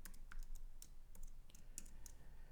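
Keys clatter in an irregular run of quick taps on a computer keyboard as C code is typed, close and fairly quiet, with no voices.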